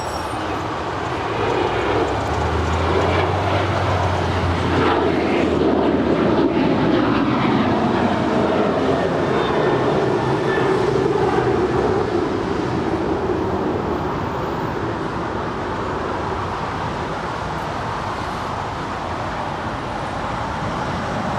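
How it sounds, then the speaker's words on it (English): A United Airlines jet departs Los Angeles International Airport with a steady, loud, broad roar that holds unbroken throughout, a deep rumble underneath and no talking. "Our next departure is United Airlines Flight 1635 departing to Washington Dulles."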